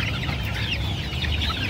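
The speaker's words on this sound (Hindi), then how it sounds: "ये एक बिल्कुल आगे बहुत बड़ा सा मुर्गा है" Chickens cluck steadily alongside a large rooster at a rooftop poultry farm, a dense, continuous flock chatter close by with no talking over it.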